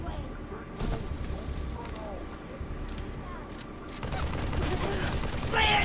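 Rapid bursts of gunfire in the Halo 3 Sierra 117 level, crackling volleys and single shots that build louder toward the end over game ambience and music.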